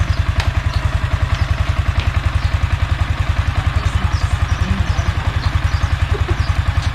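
Yamaha Sniper 155 motorcycle engine idling after a fuel filter fix, a steady rapid low thumping pulse that holds even and loud for the whole stretch with no talk.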